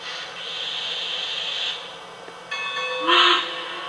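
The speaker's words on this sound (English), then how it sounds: "it gives a signal by the couple of rings of the bell and the toot" A DCC/TMCC model train locomotive runs its start sequence: a steady tone, then a couple of bell rings followed by a short, bright horn toot, all close and clear without talk.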